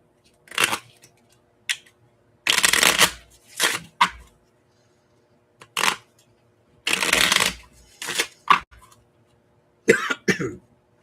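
Playing cards are shuffled over and over in quick riffling bursts with short pauses between them, close and fairly loud, with no talking.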